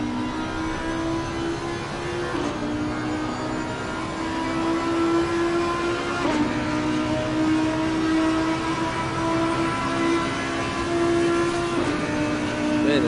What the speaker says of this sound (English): Man, the sound of that Audi.